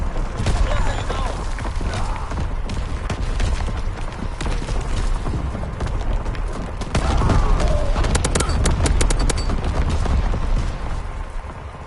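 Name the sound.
artillery barrage firing in video game Battlefield 1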